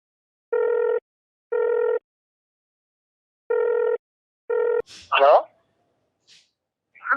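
A telephone call connects with four evenly pitched ringback beeps in two pairs separated by a pause, followed by a brief voice answering.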